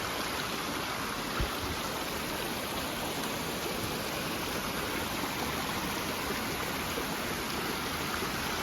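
A mountain stream flows on a backpacking trail in Yoho, a steady, unbroken rush of water that holds the same level throughout, near and fairly loud, with no voices.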